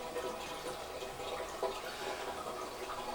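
An aquarium wave maker runs again in a reef tank, pushing water in a steady, moderately quiet wash of flowing and splashing that holds level throughout.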